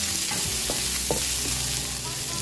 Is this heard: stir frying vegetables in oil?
yes